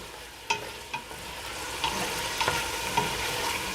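Chicken for a Tanzanian coconut chicken pilau fries in a medium-to-large pot, a steady close sizzle broken by several sharp clicks and scrapes of stirring.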